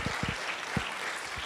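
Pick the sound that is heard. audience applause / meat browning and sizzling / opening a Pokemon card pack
audience applause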